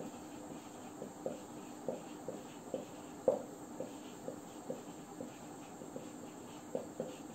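Pen or marker strokes while writing out a probability formula during a statistics lecture, a steady run of short soft scratches and taps close by, with a faint constant hiss behind them and no talking.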